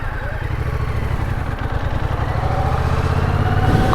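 Yamaha MT-07 motorcycle engine running in a steady low rumble after a stall, close and fairly loud for the whole stretch, with a slight rise in level toward the end.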